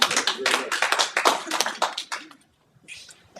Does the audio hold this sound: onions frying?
no